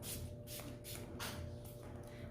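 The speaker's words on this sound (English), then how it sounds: "I'm gonna go ahead and spray my finishing spray." Several quick bursts of hissing spray from an aerosol can of makeup finishing spray, evenly spaced, close up, with no talking.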